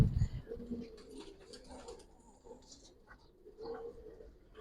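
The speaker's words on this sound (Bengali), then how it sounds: "দুইটা কবুতর দেখো একবার মানে, মানে ইয়ং কবুতর তো ভাই আরো সুন্দর হইব" Young giribaz pigeons coo softly nearby in repeated low, throaty phrases, with a brief louder rustle or bump at the start and faint chirps in the background.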